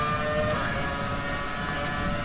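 Ferrari F2007 Formula 1 engine at full power in the F1 2020 racing game, a steady, high-revving, buzzing drone held at constant pitch with no talk.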